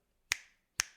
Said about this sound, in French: Là, j'ai fait un son de claquement de doigts.